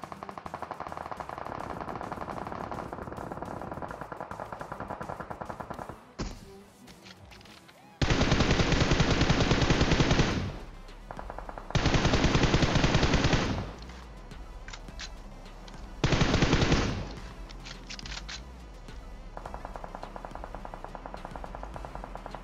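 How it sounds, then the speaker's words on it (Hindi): Sustained automatic gunfire from the front in a battle royale game comes in three long, loud bursts, each a few seconds long, separated by quieter stretches of in-game ambience. "सामने की तरफ से लगातार फायरिंग शॉट आते हैं।"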